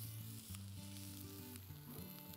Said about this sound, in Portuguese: Coloquei a páprica aqui na minha panela.